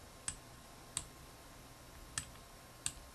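Computer mouse buttons clicking four times at uneven intervals during table editing in PowerPoint 2013, each click crisp, close and quiet over a faint hum, with no speech.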